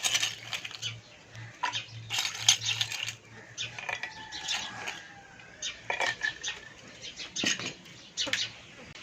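Ice cubes drop into a glass of mint lemonade, making a series of bright, close clinks and clatters at irregular intervals over a quiet background.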